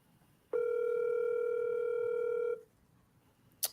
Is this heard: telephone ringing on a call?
yes